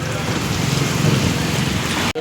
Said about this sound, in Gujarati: વરસાદ પણ ચાલુ છે ધીમી ધારે